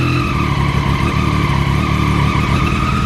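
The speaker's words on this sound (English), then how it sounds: "So let's do a startup and make sure we don't have any check engine lights" A 2014 Triumph Daytona 675R sport motorcycle engine runs steadily and loud close by, a dense continuous mechanical drone with a rapid pulsing rhythm, heard alone with no talk.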